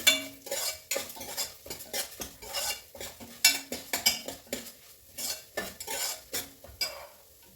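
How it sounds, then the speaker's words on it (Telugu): Onions and crushed garlic fry in a pan for a spicy mung dal curry, with a steady run of clinks and scrapes from a spoon stirring against the pan over a soft sizzle. "ఇది వేగుతుంది"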